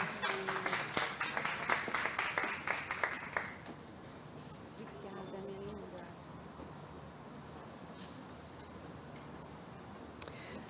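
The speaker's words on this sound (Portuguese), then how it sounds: "Quero que vocês aplaudam ao Senhor com muito carinho" Festival audience claps in sharp, rhythmic bursts for a few seconds before fading into a low murmur of crowd noise and room ambience.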